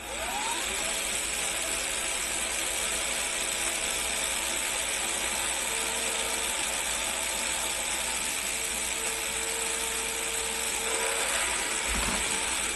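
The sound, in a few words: BuWizz motor spinning during RPM test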